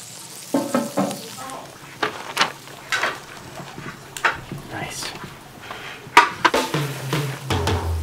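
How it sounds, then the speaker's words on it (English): Seafood drenched in sambal sizzles and crackles on a grill fire at Jimbaran Beach, Bali, with soft bursts of hiss and scattered clinks and knocks of handling close by. "all of the seafood gets that sambal treatment, just drenched in the sambal, then back onto the fire"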